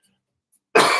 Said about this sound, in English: I feel like I'm going to cough constantly.